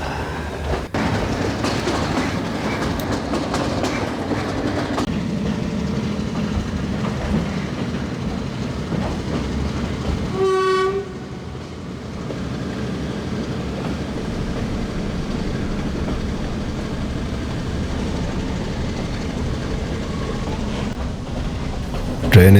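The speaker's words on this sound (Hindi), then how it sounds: "ट्रेन इस वक्त बांद्रावाला स्टेशन पे अप्रोच बना रही है।" Steady rumble and clatter of a Sri Lankan passenger train rolling toward a station, with a whistle-like tonal blast midway and continuous wheel and carriage noise throughout.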